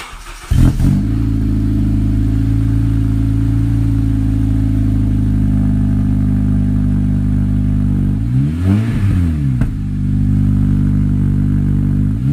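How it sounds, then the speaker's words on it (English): A ninth-generation Honda Civic Si with a K&N short ram intake idles with a deep, steady exhaust rumble, then revs up and settles back down around the end, raw and unmuffled. "I will throw in a few exhaust clips for you guys"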